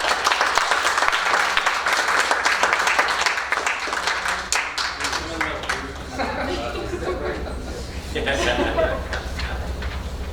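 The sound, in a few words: applause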